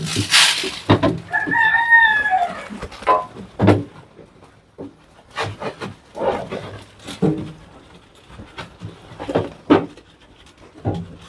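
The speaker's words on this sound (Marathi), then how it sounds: "गावरान कोंबड्या पण आहेत" A free-range rooster crows nearby, followed by scattered clucks from free-range chickens and farmyard noises, with a few loud close bursts and no talking.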